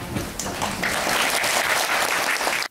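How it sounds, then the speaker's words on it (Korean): Audience applause welcoming a real estate market commentator onto the stage, a dense, steady wash of clapping that swells after a moment and carries on evenly until it stops abruptly. "큰 박수로 맞아주시기 바랍니다."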